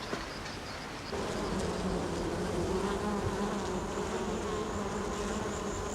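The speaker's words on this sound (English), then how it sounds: "The native bee doesn't have a sting, and he looks like a little fly, a little bush fly just kicking around the place" Native stingless bees buzz around a rock hive in the Australian bush, a dense, continuous drone of many insects close by that swells to a louder, steady hum after a second.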